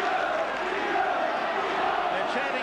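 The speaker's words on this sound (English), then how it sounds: "They're chanting Veivers' name" Rugby league crowd at a St Helens versus Australia match on the 1986 Kangaroo Tour, a dense steady roar of many voices chanting a player's name, continuous and loud throughout.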